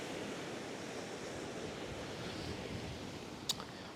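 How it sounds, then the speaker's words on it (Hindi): Sea waves wash along the coast at Scarborough beneath the cliff and castle, a steady broad roar of surf with wind, heard alone with one brief sharp click near the end. "ये मैं बिल्कुल समंदर के साथ साथ वॉक कर रहा हूँ"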